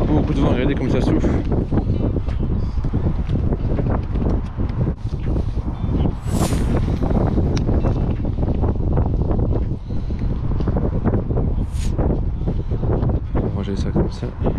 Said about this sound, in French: Il y a vraiment beaucoup de vent, regardez comme ça souffle.